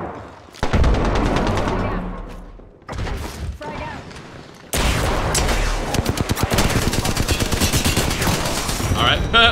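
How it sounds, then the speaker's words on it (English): Rapid gunfire from Apex Legends bursts loud and close in repeated volleys, with short pauses between bursts, as a player shoots into smoke from a building rooftop. Faint game voice lines sit under the shots. "I just shot in the smoke and I think I killed both of them"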